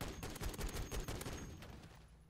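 Full-auto fire from an M4A1 rifle in MW3 Zombies: a short, fast string of shots at moderate level that fades out over about two seconds.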